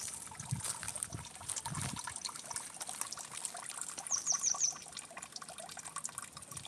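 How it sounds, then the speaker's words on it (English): A small water fountain with a little cup trickles and splashes softly and continuously at close range. A brief bird chirp sounds faintly partway through. "Here's a little fountain."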